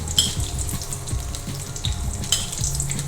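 Hot tempering oil with asafoetida poured over coconut chutney, giving a steady close sizzle with crackling pops throughout.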